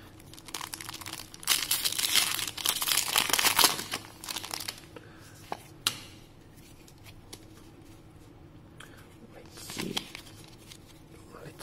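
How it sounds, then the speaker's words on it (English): Foil booster packs of Pokemon Sun and Moon Ultra Prism cards are torn and crinkled open in bursts of crisp rustling, alternating with quieter stretches where a person talks. "we open 20 packets of Pokemon Sun and Moon Ultra Prizm expansion"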